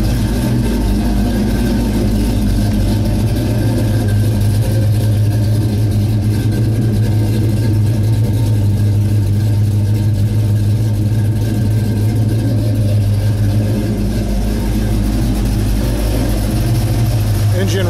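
A 1971 Chevelle SS with a 383 V8 and factory air conditioning idles steadily, its exhaust giving a deep, loud, even rumble that holds for the whole stretch without a clear rev.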